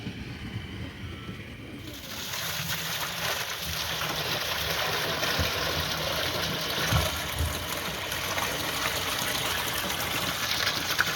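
Water gushes steadily during off-grid water collection, a continuous rushing wash with a low mechanical hum beneath, close and fairly loud throughout.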